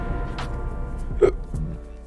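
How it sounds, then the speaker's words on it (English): A single short burp erupts about midway through a game session, fairly close and louder than the surrounding low background sound, with no talking over it. "Burping a lot."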